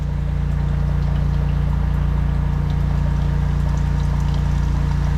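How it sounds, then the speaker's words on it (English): Water draining steadily through a blocked 90 mm PVC drain pipe with bends, a loud continuous low rushing flow with a constant hum, unbroken for the whole stretch and without talk. "Okay, that's draining."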